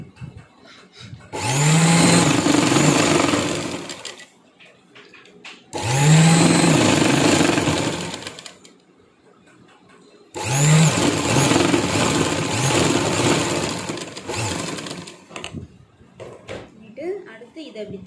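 A sewing machine stitches a 38-inch blouse in three loud whirring runs separated by short pauses, with someone talking over and between the bursts.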